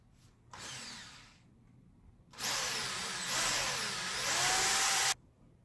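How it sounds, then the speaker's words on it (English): A power drill bores a hole for mounting a hoop: a short whir, a pause, then a longer steady high-pitched drilling run that rises slightly before stopping abruptly, close and clear with no talk. "we drill it,"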